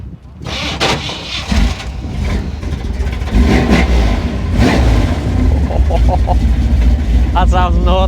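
A 7.6 litre 468 big block V8 in a Chevy C30 at a car show is blipped in short, loud revs nearby, with crowd chatter and talk around it.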